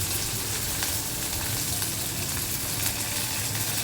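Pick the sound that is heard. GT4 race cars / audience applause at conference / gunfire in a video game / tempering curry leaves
tempering curry leaves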